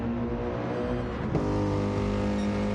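Race cars at Daytona in a racing video game, a Mercedes and a BRZ among Porsches: a steady, loud engine drone with a sharp shift in pitch midway as cars pass close by.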